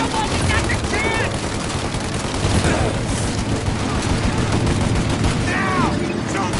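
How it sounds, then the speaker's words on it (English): Dense gunfire from a shootout in Mafia Definitive Edition on PS5, with steady overlapping bursts under a voice talking. "Shoot out your gun when there's a break in the fire!"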